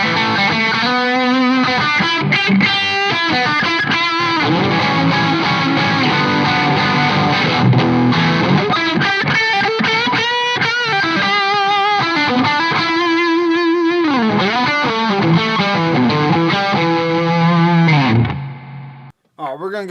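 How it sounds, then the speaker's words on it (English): A Reverend Gil Parris signature electric guitar played through a Tube Screamer overdrive, giving a loud, continuous distorted tone with chords and fast riffs that run unbroken until a short stop near the end. "let's go ahead and add in a tube screamer to that mix"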